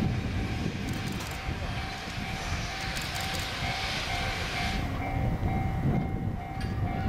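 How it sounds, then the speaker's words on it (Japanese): A steam-hauled train rumbles steadily into a station, with a constant broadband roar, a faint tonal hum and scattered clanks, while Japanese station announcements play faintly underneath. "列車入ります。"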